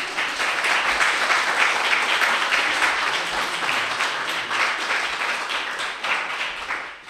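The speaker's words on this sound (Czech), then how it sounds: "potlesk za to, co jsi tady dělal." A crowd applauds steadily for several seconds, dense clapping that tapers off slightly toward the end.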